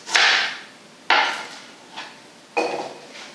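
A knife halves Brussels sprouts on a board, with four sharp separate cuts, each a crisp chop and a short crunchy tail, close and fairly loud, with no talking.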